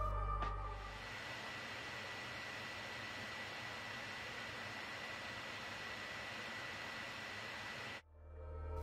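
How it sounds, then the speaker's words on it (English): A 2008 13-inch MacBook cooling fan spinning at full speed, a steady loud airy whoosh with a faint whine that holds for about eight seconds, then cuts off abruptly. "This is how the fan sounds at full speed."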